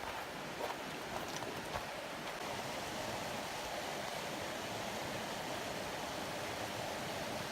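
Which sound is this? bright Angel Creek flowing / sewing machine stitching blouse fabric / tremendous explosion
bright Angel Creek flowing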